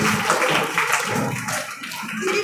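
Crowd clapping at a girls' senior secondary school Independence Day celebration, a dense steady patter of many hands sustained throughout at moderate level.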